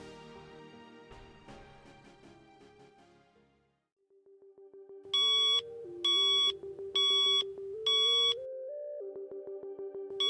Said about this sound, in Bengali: স্যার আপনার রিমোটে তো সিগন্যাল দিচ্ছে